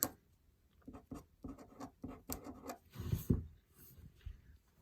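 Pen strokes as an equation is written out by hand for a partial fractions math lesson, a close run of short scratchy marks in quick bursts with brief pauses, quiet and alone.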